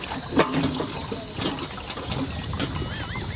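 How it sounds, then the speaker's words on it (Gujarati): Water runs from a hand pump into a container with an uneven splashing trickle, close by, in a few short irregular surges over a brief moment. "એ ભરવાનું ચાલુ કર્યું હો પાણી"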